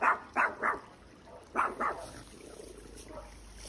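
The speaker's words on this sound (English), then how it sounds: "This dog will not leave me alone" A dog in a marketplace barks several times in quick bursts, a few close, sharp woofs in two clusters followed by fainter yips and whimpers.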